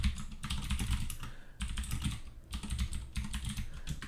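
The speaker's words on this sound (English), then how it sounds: "I'm going to kind of type up what the gist of it was" Code being typed on a computer keyboard, a close, continuous patter of keystrokes in quick bursts with short breaks between them.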